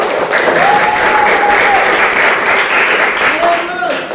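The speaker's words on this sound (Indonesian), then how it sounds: "Kasih tepuk tangan dulu." A class of students applauding in a history lesson, loud dense clapping close by with cheering voices rising over it throughout.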